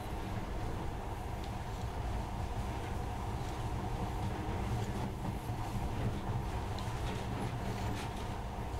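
In the video game Metro: Last Light, a monorail train runs with a steady, dense rumble and hum, a continuous close rolling roar with no break.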